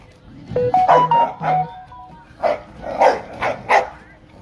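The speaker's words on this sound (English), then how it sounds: "These dogs never stop." Several dogs bark repeatedly on a backyard deck, close and fairly loud, in uneven bursts over about four seconds, with a tonal chime-like whine in the first half and a voice faintly underneath.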